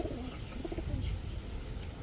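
Pigeons kept by a seller, Chuina and Naira breeds, coo in soft low repeated calls close by, amid faint background bustle with no talking.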